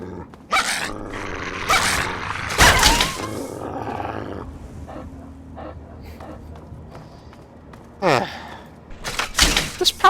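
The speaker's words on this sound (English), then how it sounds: "it's another vicious dog." A vicious dog growls and barks in Fallout 3, with loud snarling bursts early on and again near the end, over low game ambience and occasional other noises.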